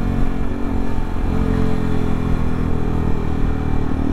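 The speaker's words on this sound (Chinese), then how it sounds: "这台车算是一台要拉高转的车啊，它低速就是没有什么力。" A Yamaha R15M sport motorcycle engine revs continuously at close range, a steady loud mid-pitched drone with slight rises and falls in pitch and no talk over it.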